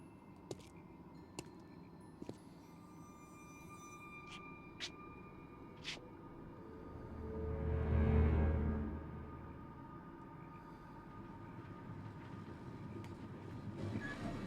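A train runs past in the video game Sherlock Holmes: Crimes and Punishments, with a few sharp clicks early on, then a rumble that swells to a peak midway and eases off again. No one speaks.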